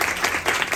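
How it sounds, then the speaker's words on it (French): Audience applause at a talk on feminist public policy, a steady wash of many hands clapping at once, fairly loud and dense throughout, with no voices standing out. "Oui, on peut l'applaudir."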